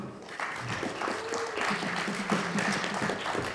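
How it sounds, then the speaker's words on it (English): Audience applause at the Gopherpalooza 2018 Go conference talk, a steady wash of many hands clapping that swells slightly and keeps going throughout, with a little voice mixed in. "So, round of applause for Ron"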